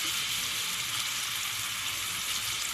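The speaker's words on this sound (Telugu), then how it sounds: "ఇదే బాండిల్లో 1 గంట నూనె వేసుకొని ఒక్క టమాటా ఫ్రై చేసుకోవాలి పాప" Tomato frying in oil in a pan, a steady, even sizzle with a bright hiss, close and unbroken, no voices.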